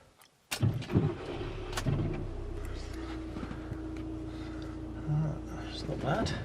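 VW T5 van engine cranking and catching, then settling into a steady low idle rumble, close, with a few clunks and a voice speaking briefly over it.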